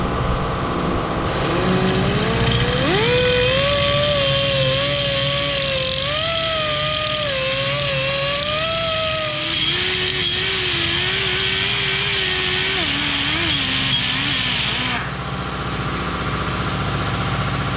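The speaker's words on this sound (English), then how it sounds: "Sorry about the compressor" An air compressor runs steadily close by in a workshop where a 1972 Nova is checked for a bent axle, a loud motor drone with a wavering whine that drops in pitch partway through, then cuts off.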